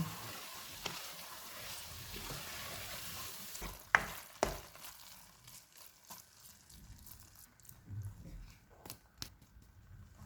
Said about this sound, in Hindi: 2 सब्ज़ मिर्चें डालेंगे, कद्दूकश किए हुए अंडे, इनको मिक्स करेंगे।